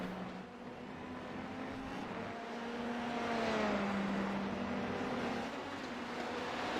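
Formula 3 race cars in a racing video game drone steadily with a sustained engine whine that rises and falls in pitch as the cars accelerate and pass, continuous and fairly loud with no talk.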